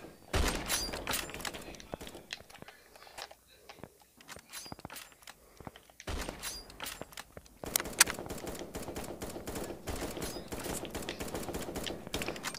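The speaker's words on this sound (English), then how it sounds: "Oh, they shooting." Gunfire in the 1v1.lol shooter game comes as rapid bursts of sharp cracks and clatter. The shots are loud and close, with a denser stretch near the end, and someone talks over them.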